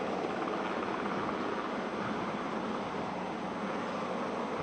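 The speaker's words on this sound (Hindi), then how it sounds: "अब हेलीकॉप्टर ऊपर की तरफ उड़ान भर रहा है" A navy helicopter climbs upward lifting marine commandos at an Indian Naval Day display in Malvan, Sindhudurg, as a steady, fairly distant rotor and engine roar that runs unbroken and fairly faint, with no voices.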